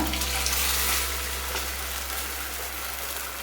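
Boiled mutton liver tipped into a pan of cooked-down tomato masala for spicy liver thokku, giving a loud burst of sizzling and frying hiss that settles into a steadier, softer sizzle, with a low steady hum underneath.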